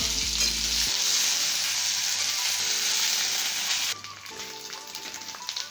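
Garlic and crushed green chilies sizzle and fry steadily in hot oil for a vegetable dish, a loud continuous crackle that drops a little partway through, with no one talking.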